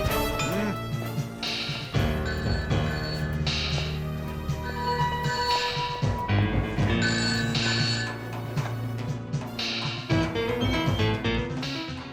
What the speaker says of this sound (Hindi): Sir phone.